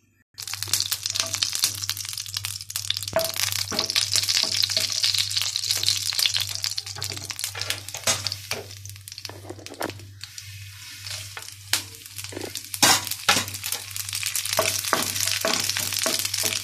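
Ghee tempering with asafoetida, cumin, curry leaves, dried red chillies and mustard seeds crackles steadily in a pan, a dense bright sizzle peppered with sharp pops and spits, close and continuous over a low steady hum.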